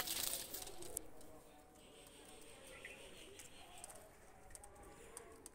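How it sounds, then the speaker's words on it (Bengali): A pair of Oman teddy pigeons coo faintly in low, muffled phrases under steady background hiss, with a brief clatter at the start and light scattered taps. "এক পেয়ার ওমান টেডি কবুতর নিয়ে আসলাম"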